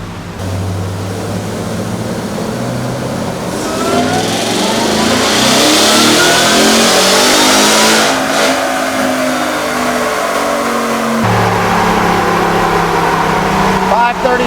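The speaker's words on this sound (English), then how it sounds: "We're all set up in the truck, doing all these pulls in 5th gear." Ford Raptor R pickup truck on a dyno, engine revving hard through a pull in 5th gear, pitch climbing steadily to a loud peak before easing off, with a brief lift partway through.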